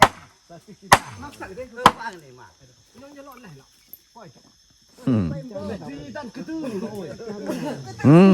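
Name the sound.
hammering wood planks for a bridge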